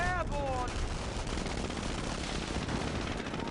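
Infantry small-arms fire in the strategy game Company of Heroes, a steady crackle of rifle and machine-gun bursts at moderate distance, running throughout under someone talking.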